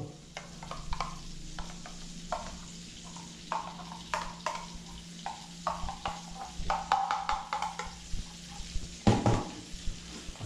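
Garlic fries in a pan for a seafood kare-kare dish, with a steady soft sizzle under repeated scraping and clinking of a spoon stirring against the pan, close and continuous with no talking.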